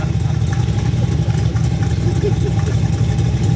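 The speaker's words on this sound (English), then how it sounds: "192 degrees, the thing will idle like that all day long" Twin turbo Chevrolet Malibu engine idling at operating temperature, a loud, close, steady lumpy rumble that pulses evenly throughout with no talking over it.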